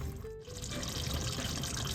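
Vinegar pours into a pot of boiling pork adobo, a close, continuous watery splash and bubbling that follows a brief dip and carries on steadily to the end.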